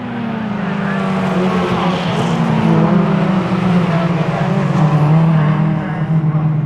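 Race cars at Croft circuit in a 2016 750 Motor Club race, several close together with loud engines screaming past, the roar rising and shifting in pitch as they go by.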